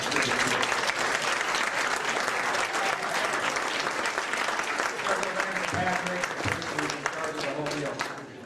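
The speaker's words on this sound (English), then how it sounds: "we give them a great round of applause for helping us out" A banquet audience at a karate hall of fame evening gives a long, loud round of applause for the hosting staff, dense clapping throughout with a few voices briefly audible underneath.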